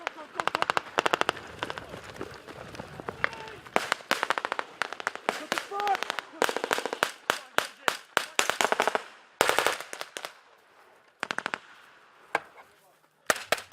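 Machine guns giving covering fire during a military exercise attack at sunrise, rapid bursts of loud gunfire crackling in quick strings with short gaps, some distant shots mixed in and a voice speaking underneath.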